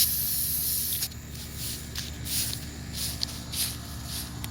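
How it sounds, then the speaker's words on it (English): An aerosol can sprays patio furniture in a series of hissing bursts with short gaps, close up and steady, with faint shuffling movement between passes. "make sure that they all get sprayed very well"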